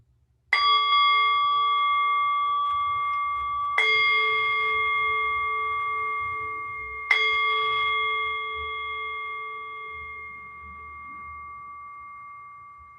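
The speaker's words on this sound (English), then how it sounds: "When you no longer hear the bell, remembering how it just faded" A meditation bell struck three times, each ring a clear, sustained tone that slowly fades, alone in a quiet room.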